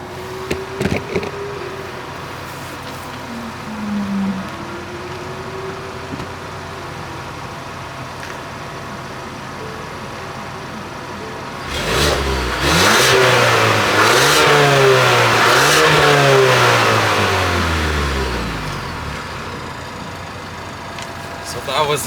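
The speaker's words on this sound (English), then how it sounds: "Let's get a sound clip of the engine." A 2023 Ford Explorer XLT engine runs after a remote start, idling with a few light revs, then climbs through several loud, rising and falling revs in the second half before settling back toward idle.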